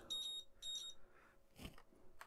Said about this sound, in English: and we get a beep there.